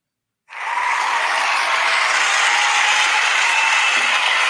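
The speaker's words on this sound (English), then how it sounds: "A round of applause." Dense crowd applause starts abruptly after a short silence and holds steady and loud to the end, a continuous wash of many hands clapping, played as a sound effect on a podcast.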